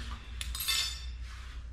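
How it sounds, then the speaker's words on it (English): Metal camping cutlery is handled during an island bikepacking trip, with a fork giving a couple of bright close clinks followed by a softer metallic rustle, quiet against outdoor background noise. "It's always nice to have some metal cutlery, it's not too heavy."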